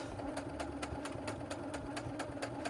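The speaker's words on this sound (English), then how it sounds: "I'm gonna start with a back stitch. And I'm kind of on this 1/4 seam allowance line here." A sewing machine runs steadily, stitching a back stitch along a quarter-inch seam on fabric for a small wristlet keychain, with an even, rapid mechanical rhythm of needle strokes heard close and alone.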